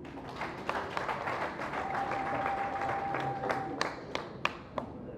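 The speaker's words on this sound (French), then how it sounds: "Applaudissez-vous." An audience claps at a party's first-anniversary celebration in Parakou, Benin, a moderate, steady wash of hand claps with a few sharper individual claps standing out.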